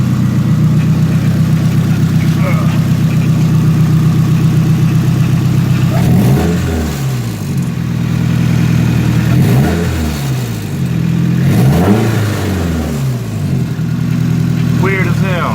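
Nissan S14 SR20 engine with a Tomei setup, loud steady idle followed by several revs, each bringing a metallic rattle that fades as the engine settles.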